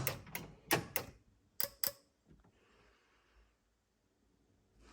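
A 2002 Porsche 911 door lock actuating, a quick cluster of sharp close mechanical clicks followed by fainter ticks, then near silence.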